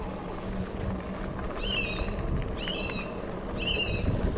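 A bird gives three loud, clear, noisy calls about a second apart, each a downward-swooping chirp with harmonics, close by over steady low road rumble from a vehicle driving along a woodland track.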